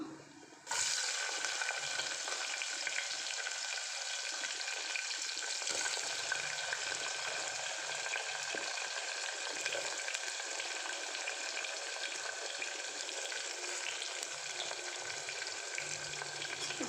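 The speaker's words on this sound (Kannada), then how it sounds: "ಇವಾಗ ಎಣ್ಣೆ ಕಾಯ್ದಾಗಿದೆ ನೆಕ್ಸ್ಟ್ ಇವಾಗ ಇದಕ್ಕೆ ಆನಿಯನ್ ಆ್ಯಡ್ ಮಾಡಿಬಿಡೋಣ" Chopped onion fries in hot oil for paneer pulao, a loud, continuous sizzle that starts abruptly after a quiet moment and carries on steadily with faint stirring scrapes, no voices.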